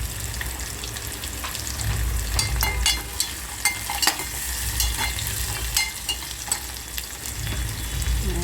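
Chillies and carrots go into a frying pan for khichdi, sizzling steadily up close, with intermittent scraping and clinks from stirring throughout.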